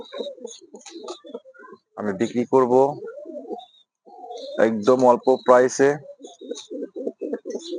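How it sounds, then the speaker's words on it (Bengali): A pair of fantail (lakka) pigeons coos in soft, repeated bursts near the end, mixed in with someone talking loudly in Bengali, who dominates most of the span. "আমার এই লক্ষা কবুতর জোড়া"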